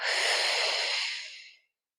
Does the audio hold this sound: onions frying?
no